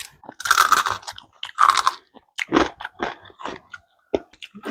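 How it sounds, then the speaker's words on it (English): Whole shrimp crunched and chewed shell and all from a spicy, garlicky seafood boil, with close, loud, irregular bites and crackling crunches, several bursts over a few seconds and no talking. "It's like you're eating this with the shell."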